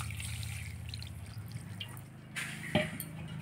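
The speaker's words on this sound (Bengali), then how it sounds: "এরপর এখানে আমি জলটা দিচ্ছি।" Water poured into a bowl trickles and drips softly over a low background hum, with a brief splash and clink toward the end, quiet and close.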